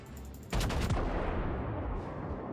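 Loud naval gunfire from warships in World of Warships erupts after a brief quieter lead-in, a sudden heavy barrage of overlapping booms followed by a long rumbling, crackling tail.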